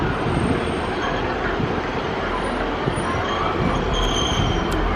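A train pulls into Leeds station on the East Coast Main Line, a steady mid-distance rumble of wheels and engine with faint high squeals toward the end and no talking.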